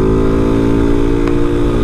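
Honda CG Start 160 motorcycle ridden on a rough street at night, its engine droning loud and steady with a low harmonic hum and no voices over it.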